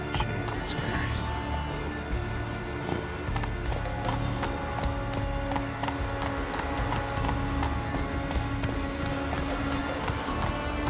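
Horse galloping in the video game The Witcher 3, a steady close clip-clop of hooves pounding along over constant background game sound, with a faint brief neigh near the start.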